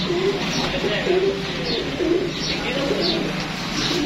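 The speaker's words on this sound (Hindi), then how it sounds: "अच्छे बर्ड्स हैं VIP किस्म के" Pet pigeons or doves of a prized VIP breed coo repeatedly in low, rolling calls, several birds overlapping at close range with a few faint chirps in the background.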